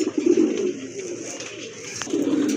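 Pigeons coo steadily at a busy pigeon market where domestic and foreign breeds are sold, the soft low burbling calls close and continuous throughout.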